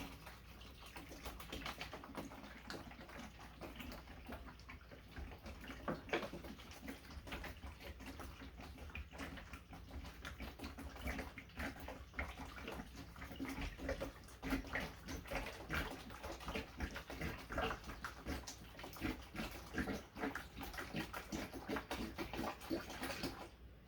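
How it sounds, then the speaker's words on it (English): Steady rush of water poured into a container to make a JADAM wetting agent with soap, continuous and fairly close, with faint splashing texture throughout and no talking. "All I did was pour the water in."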